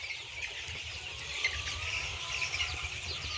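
Young layer chicks about a month old in a poultry shed, a busy chorus of soft high peeping and clucking from many birds, moderately distant and continuous without speech.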